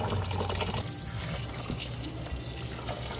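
Freshly picked flowers rinsed under a running tap, a steady close splash and trickle of water that carries on without a break and sits alone with no talk.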